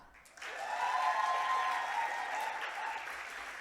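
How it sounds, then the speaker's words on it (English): Audience at a youth HIV advocacy session applauding as a young speaker from Eswatini is welcomed, a sustained roomful of clapping rising after a quiet start and holding steady, moderately distant. "Keep clapping until Progress comes."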